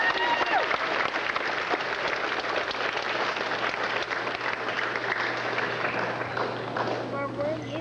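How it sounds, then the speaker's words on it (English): Large audience at a school ceremony giving a loud, continuous round of applause for students receiving medals, dense clapping mixed with crowd voices and a steady low hum beneath. "let's give these students a big round of applause"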